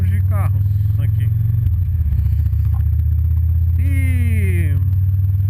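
Car engines at a car show give off a loud, steady low rumble that runs the whole time, with a voice rising briefly over it near the end.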